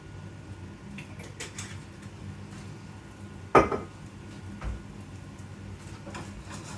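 A spoon stirs a pot on a home stovetop, giving one sharp clink against the pot's side midway through and a softer knock shortly after, over a low steady kitchen background.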